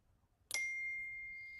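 A single message notification chime from a family group chat rings out once, clear and bright, then fades with a lingering ring over a quiet background.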